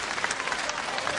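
A wrestling crowd applauds after a heavy throw in a bout, a brief burst of dense clapping from the spectators heard alone, steady and moderately loud.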